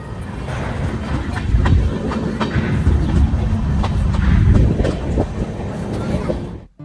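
Steady rumbling and rhythmic clatter of a train running on rails from Kolkata toward Ghatshila, heard from close by, loud throughout before cutting off abruptly.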